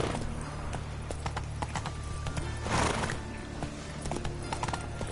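The horse Roach trots in The Witcher 3 with steady, rhythmic hoof clip-clops at a moderate volume, joined briefly by a whinny.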